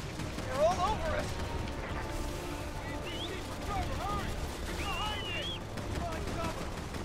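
Gunfire in the video game Resident Evil 6, with scattered shots and bursts mixed among chaotic game effects and ambient noise. Shouting voices from players break in between shots.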